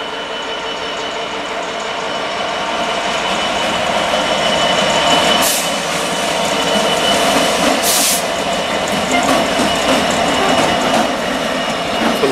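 Freight train moving through a marshalling yard, a locomotive hauling wagons past at steady close range, with continuous rumble, wheel noise and two brief bright hissing bursts partway through.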